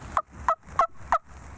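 Wild turkeys calling outdoors near a roost at dusk, four evenly spaced short clucks, fairly close and clear over quiet background.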